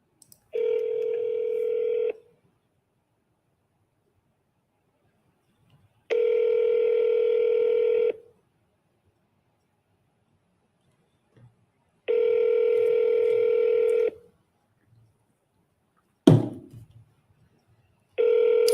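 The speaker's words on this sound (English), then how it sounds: "Let's call back one more time." A telephone call rings out unanswered: a steady ringback tone sounds in even two-second bursts separated by longer silences, repeating four times, clear and alone with no talking.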